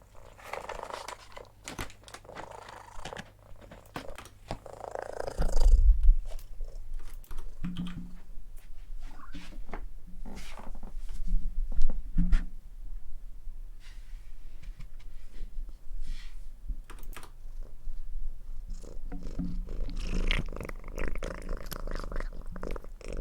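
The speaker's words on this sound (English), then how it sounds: "recordings of Poppy purring really loudly" Close, crunchy purring from Poppy, a domestic cat, rumbling low and steady, interrupted by sharp clicks and small rustling noises, with a louder burst in the middle and near the end.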